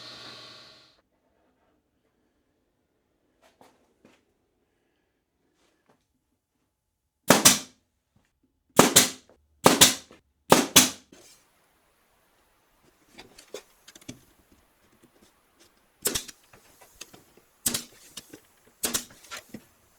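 Nails being driven as trim is fixed to the front edges of lumber rack shelves, heard as a series of sharp, close snapping shots, some in quick pairs, separated by quiet gaps and light handling noise.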